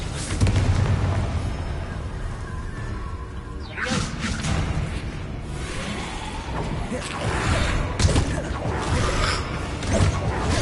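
Confringo fire spells from Hogwarts Legacy burst in a loud game battle, with whooshing casts and booming impacts around four and eight seconds over a dense, rumbling combat din.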